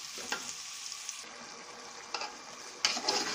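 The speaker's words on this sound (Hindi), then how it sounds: "अब इन चीजों को थोड़ी देर भूनेंगे क्योंकि इनका कच्चापन ना रह जाए" Potatoes, carrots and peas frying with masala in a pan, a quiet steady sizzle with a few scraping stirs near the start and end.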